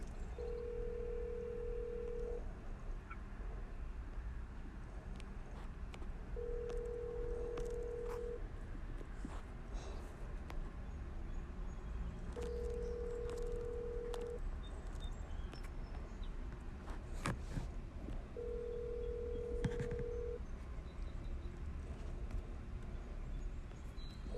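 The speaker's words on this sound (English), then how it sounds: "It's ringing." A phone line rings four times at a steady interval, each tone about two seconds long, over a constant low background hum.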